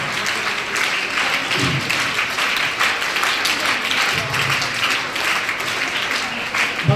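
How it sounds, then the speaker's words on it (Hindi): Schoolchildren at a school in Dhamtan Sahib clap together in a sustained, fairly loud round of applause, an even crackle of many small hands with a few voices faintly underneath. "तालियां बजाइए"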